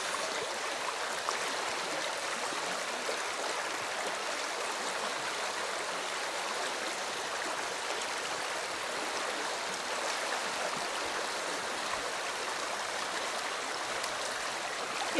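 A river in Provence flows steadily, a continuous broadband rush of moving water that stays even and moderately close for the whole stretch, with no voices.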